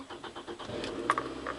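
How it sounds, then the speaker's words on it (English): A car engine cranks with a quick run of starter pulses, then catches and settles into a steady low idle. It is close, moderately loud and has no talking over it. "Next, I have someone else start the car"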